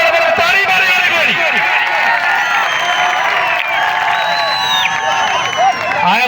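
Dense crowd noise at a village kabaddi match between two local clubs, with scattered clapping and cheering mixed into loud, continuous babble and shouting close by.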